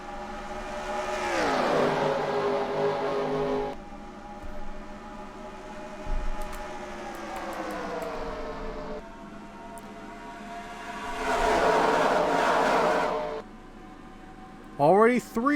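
Stock cars in a racing video game roar away at the green flag at Michigan, engines swelling and fading in waves as the pack passes, with a commentator talking over the noise throughout.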